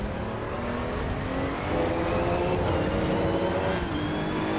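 Maserati GT2 race car engine in Assetto Corsa EVO, a steady loud drone of revving and shifting engine tones sustained throughout without a break.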